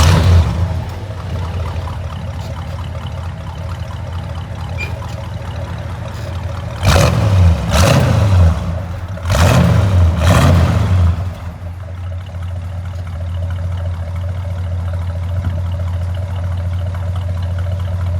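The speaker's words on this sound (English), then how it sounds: "we're going to start this truck up and see how it sounds." A 1969 Ford F100 Ranger pickup with a 360 V8 engine idles with a steady low rumble, then surges through two loud revving bursts before settling back to idle.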